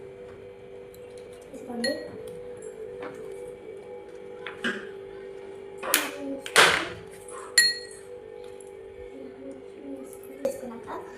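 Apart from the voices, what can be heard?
ice cubes clinking into a glass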